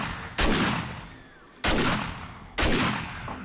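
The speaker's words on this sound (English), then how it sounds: "Let's reload and let's just shoot the crap out of her." Gunfire in the survival video game 7 Days To Die: three loud, heavy gunshots spaced about a second apart, each with a long decaying echo.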